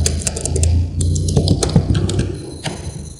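Typing on a computer keyboard, with a quick uneven run of close, crisp key clicks and taps over a light background hum.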